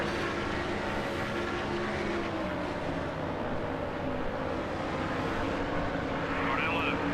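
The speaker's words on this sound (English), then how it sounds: "you can hear it in the engine, we've just lost a lot of speed" Race car engine in NASCAR Thunder 2003 at Chicagoland, a steady droning roar that slowly sags as the car loses speed, heard continuously under commentary-style talk with a broadband rumble of traffic.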